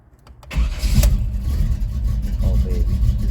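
A 1983 Chevrolet S10 Blazer with an aftermarket cam cranks briefly and catches, then settles into a loud, rumbling close-up idle with slight revving and no talk.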